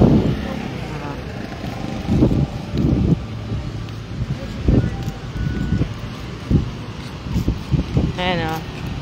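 Steady wind blowing by the sea at dusk, buffeting the microphone with low rumbling gusts throughout, while faint voices and a distant vehicle pass in the background.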